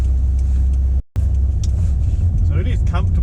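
A car idles and rolls in traffic with a steady low engine rumble, heard from inside the vehicle, with a brief dropout and faint higher noises from passing traffic near the end.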